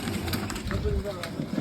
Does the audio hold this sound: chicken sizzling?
no